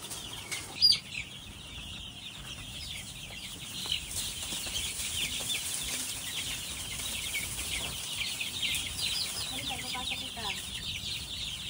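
White Kelso chicks peep in a brooding area, with faint high chirps and clucks scattered over a noisy background, along with a few louder bumps and rustles.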